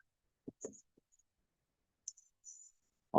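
A computer mouse gives a few soft, isolated clicks in an otherwise quiet room as the Create Project button in Unity Hub is pressed.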